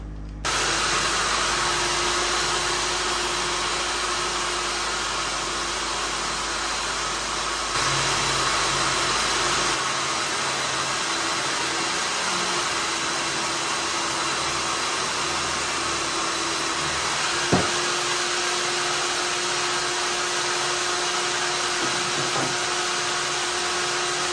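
A Les Paul Junior double-cut guitar body is sanded around its outside edge with 240-grit paper on a power sander, a steady, close whine and hiss that runs unbroken, with a brief knock partway through.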